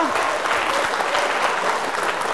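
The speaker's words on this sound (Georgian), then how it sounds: "აპლოდისმენტები" A crowd claps steadily and loudly throughout at a student quiz semifinal, dense applause filling the whole moment without pause.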